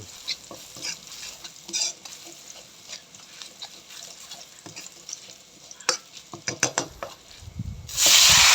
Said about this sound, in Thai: ผัดกระเทียมไปก่อน